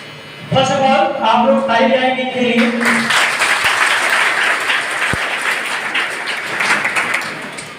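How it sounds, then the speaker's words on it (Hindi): An audience at a coaching institute's award ceremony in Bhatni breaks into loud, sustained applause that follows a brief spoken announcement and continues steadily to the end. "फर्स्ट ऑफ ऑल आप लोग ताली बजाएंगे इनके लिए।"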